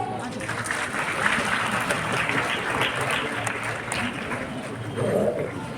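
A hall audience claps for a student at a toppers' award ceremony at Gyan Bhawan in Patna, a sustained, fairly loud patter of applause that swells near the end while a voice talks over it.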